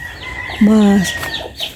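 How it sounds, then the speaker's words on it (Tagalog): A single nasal, buzzy squawk from a chicken, fairly loud and close, with faint background noise before and after. "Uy, may narinig ako dito manok eh."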